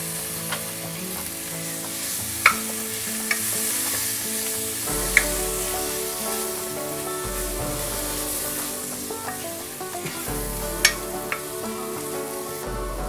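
Finely chopped tomatoes fry in hot oil over a medium flame for a Marathi mixed vegetable bhaji, a steady close sizzle broken by a few sharp scrapes and clicks of a spoon stirring the pan.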